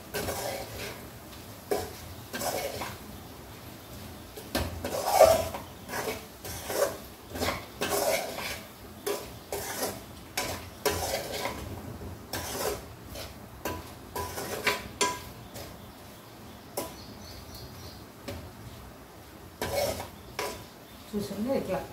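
A spoon scrapes and clinks around a pot as coriander powder is stirred into a tamarind curry of taro root and onions. The scraping comes in close, irregular bursts with short pauses between strokes.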